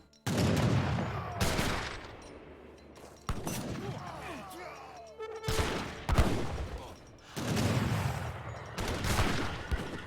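Musket volleys crack out in bursts during an Age of Empires 3 battle between hussars and longbowmen, several dense rattling salvos at mid distance separated by brief lulls, mixed with battlefield clatter.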